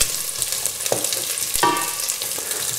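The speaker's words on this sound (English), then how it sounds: "So let's just put the chorizo in there. Give that a quick move around." Chorizo frying in hot oil in a pan makes a bright, continuous sizzle. Scraping stirring strokes break through it a few times while the sausage is moved around.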